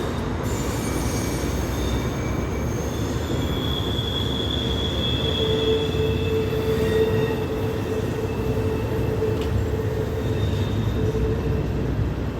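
An intermodal freight train rolls past L'Enfant station in Washington DC, steady loud rumble throughout with high wheel squeal tones sustained over the passing cars, no talking.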